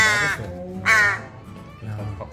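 A wild crow caws loudly and close by, three harsh calls with a pause between the second and third, alone without talk.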